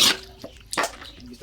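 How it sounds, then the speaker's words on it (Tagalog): Water is added to a cooking pan of meat and annatto for pancit bihon, producing short splashing bursts of liquid with a brief pause between them, close and fairly loud. "Tapos lagyan na natin ng tubig."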